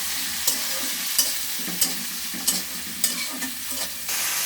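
Onion dropped into hot oil for a fish and potato curry, producing a loud, close, continuous sizzle broken by a regular series of spoon scrapes and knocks against the pan, roughly every half second.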